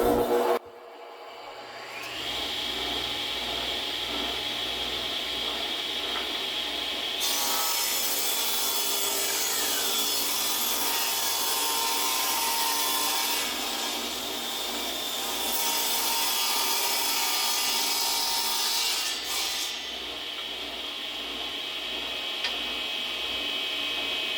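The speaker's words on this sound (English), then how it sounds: "So the next rips will be for the bed rails." Saw ripping wood boards into rails for a toy wooden pickup truck bed, a loud, continuous whine and rasp of blade cutting through the wood that holds steady for the whole stretch with slight shifts in pitch.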